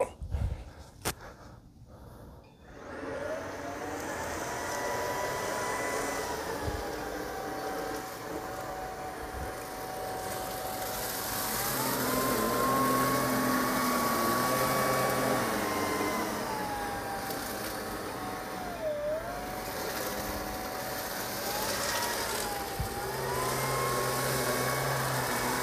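An LG R9 robot vacuum cleaner hums steadily nearby, its motor pitch rising and dipping as it moves, after a few brief knocks at the start.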